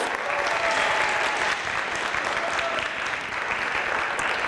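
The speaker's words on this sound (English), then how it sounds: "Let's give our students a round of applause." Families in an audience applaud kindergarten students at a school holiday concert, with dense, steady clapping that fills the whole stretch at an even, loud level.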